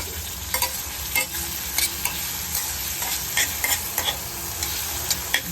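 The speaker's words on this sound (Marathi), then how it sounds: "कांदा टोमॅटो तेलात नीट परतून घेतल्यानंतर त्यामध्ये मीठ आणि मसाले घालून ते नीट परतून घ्यावे" Onion and tomato sauté in hot oil with a steady soft sizzle, punctuated by regular scraping clicks of a spoon stirring in the pan, for a Malvani-style wet cashew masala dish.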